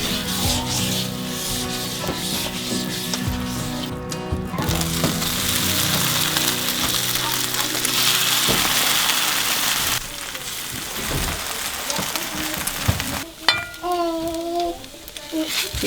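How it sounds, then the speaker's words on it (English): Butter sizzles in a pan on a wood cook stove at an off-grid Alaska homestead, a steady loud hiss with scraping and clatter, and a few higher squeaky tones near the end. "See how my butter sizzles?"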